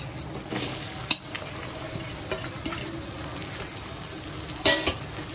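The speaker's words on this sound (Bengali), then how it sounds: "ভালো করে পেঁয়াজটা ভেজে নেব।" Onions fry in a pan for butter chicken, giving a steady close sizzle with occasional clinks and scrapes of stirring, a few louder knocks on the pan breaking through.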